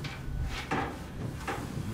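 Door in the video game Soma makes muffled mechanical sliding thuds, two or three in quick succession, over a low ambient hum with no speech.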